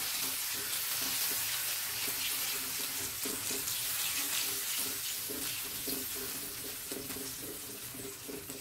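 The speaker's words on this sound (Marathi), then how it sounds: "आता आपण ही छान ढवळून घेऊया" Rice flour batter in buttermilk is stirred in a pan over a low flame, a steady wet bubbling hiss with rhythmic scraping strokes of a spoon throughout and no voices.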